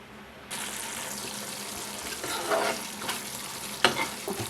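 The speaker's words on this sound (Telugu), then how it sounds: "కూర చక్కగా ఉడుకుతుంది" Capsicum gravy curry simmers in a pan, giving a continuous close bubbling hiss broken by a few stirring scrapes and clicks.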